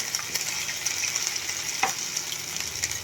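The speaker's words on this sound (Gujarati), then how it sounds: "તેલ આપણું ગરમ થાય એટલે આપણે એમાં આદુ લસણ મરચાંની પેસ્ટ એડ કરી દઈશું" Ginger, garlic and chilli paste sizzles steadily in hot oil, a constant crackling hiss with a brief stirring scrape partway through.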